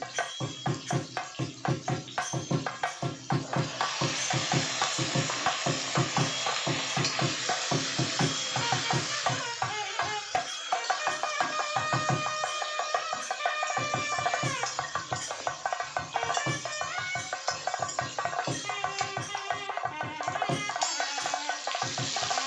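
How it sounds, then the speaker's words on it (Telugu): Onions and then garlic frying in a pan for a garlic curry, a steady close sizzle with stirring scrapes running throughout alongside other kitchen sounds. "ఇప్పుడు ఉల్లిపాయలు, తర్వాత వెల్లుల్లిపాయలు కూడా వేసి చక్కగా దోరగా వేయించుకోండి."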